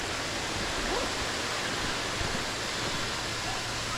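Rushing water at Khoun Moung Keo waterfall makes a constant broadband roar, steady and fairly loud, with no distinct events and no speech.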